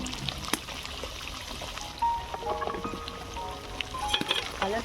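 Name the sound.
pouring white cooking oil into pan for frying parathas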